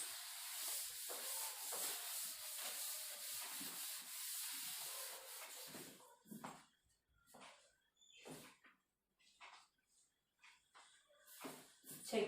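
Rubbing out writing on a board in a maths lesson, a steady dry scrubbing swish lasting about six seconds and then breaking into short, separate rubbing strokes. The sound is close and clear and no one talks over it.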